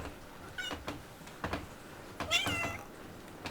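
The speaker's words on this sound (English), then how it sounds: "Cat." A house cat meows several times in short, faint calls spread across a few seconds, some rising in pitch, against quiet room noise while a game is being played indoors.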